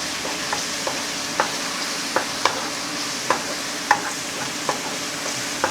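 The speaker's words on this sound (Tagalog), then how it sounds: "igigisa ko pa ng konti para mag-brown-brown naman siya" Ginger sautés in a pan for chicken adobo, a constant close hiss of frying punctuated by regular light taps and scrapes from a utensil stirring.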